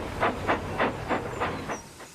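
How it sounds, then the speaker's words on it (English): Steam tram engine chuffing steadily, a series of about seven rhythmic breathy hissing puffs evenly spaced, fading slightly toward the end, heard up close with no talk. "he puffed, and he chuffed off to Gordon's Hill"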